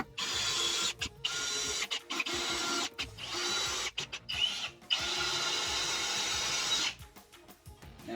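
A power drill drives screws into plywood on a ramp build, coming in repeated loud bursts of whirring separated by short pauses, with no talking.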